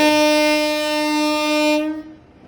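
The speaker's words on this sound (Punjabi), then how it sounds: "ਜਿਵੇਂ ਮਿੱਤਰੋ ਰੇਲ ਗੱਡੇ ਆਉਂਦੇ ਆ" A loud, sustained train horn blares close by for about two seconds, then cuts off, leaving faint rumble.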